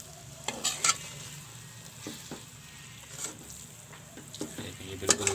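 Makhandi halwa with walnuts is stirred in a hot pan, with scraping spoon strokes and light clinks over a low, continuous sizzle, close and moderately quiet.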